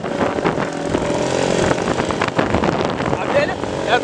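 Motorcycle engine revving loud and close, a rough continuous drone with rising and falling pitch, overlapped by speech throughout.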